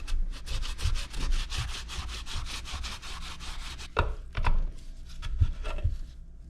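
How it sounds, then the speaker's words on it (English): A rapid, gritty scraping rasp repeats steadily as dry, ungreased motorcycle swingarm linkage bearings spin, followed by a few clunks and knocks. "testing to see if the bearings still spin. You can hear and feel the dryness"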